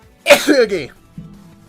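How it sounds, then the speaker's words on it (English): One abrupt sneeze erupts up close, loud and forceful, then trails off, followed by a faint murmur. "That was a sneeze."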